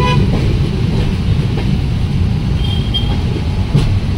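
A train passes on the line near Tinsukia, a steady loud rumble of wheels and carriages with a short horn toot rising above it.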